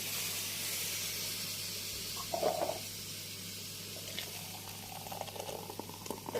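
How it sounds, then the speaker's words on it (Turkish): Milk bubbling at a boil in a pot, giving a steady soft hiss with faint intermittent pops and gurgles, close and quiet, no voices. "Evet sütümüz kaynadı."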